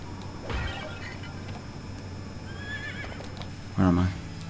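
A horse whinnies in the video game Dynasty Warriors 3, with light hoof clatter over a steady background hum, and a brief louder burst near the end.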